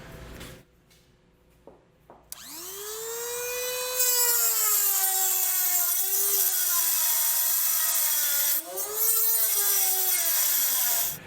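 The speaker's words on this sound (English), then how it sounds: "We're going to use a cutoff wheel for this one" A cutoff wheel slices through metal near Jeep Patriot components during a 2011 Jeep Patriot base plate install, spinning up with a rising whine and then grinding loudly and steadily for about nine seconds with brief dips.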